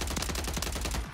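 Rapid automatic gunfire from a Warzone 3 match, a dense burst of repeated shots at an even, fast rhythm. It runs loud and close for about a second before cutting off.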